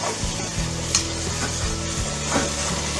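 Mushrooms and masala powders are stirred in a sizzling pan for paneer mushroom pulao, with a few scraping strokes of a spoon over a steady close frying hiss.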